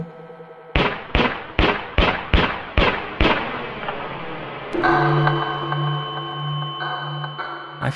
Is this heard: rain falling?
no